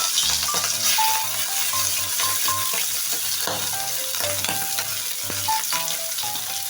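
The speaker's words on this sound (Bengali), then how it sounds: "এবার চিংড়ি মাছগুলো ভেজে নেব" Shrimp frying in hot mustard oil, a steady loud sizzle with bright spattering pops and clinks of a utensil stirring throughout, no voices.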